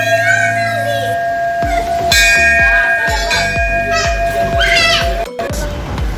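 A small hand bell at a highway hotel rings in a quick series of bright, ringing strikes, close and loud, while children chatter around it.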